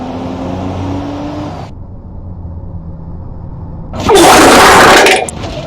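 A BMW M4 in a crash test: a steady engine hum, then a quiet stretch, then a loud, harsh burst of broadband noise lasting about a second before it cuts off. No voices.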